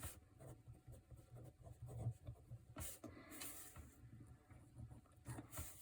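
A pen scratching on paper while a constant-acceleration diagram is drawn out, close and quiet, with irregular strokes, taps and brief scribbles continuing throughout.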